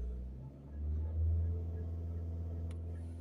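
A Skoda Octavia 2.0 TDI diesel pulls away under acceleration, with a close low engine rumble that swells and deepens for about a second before settling into a steady drone, no voices.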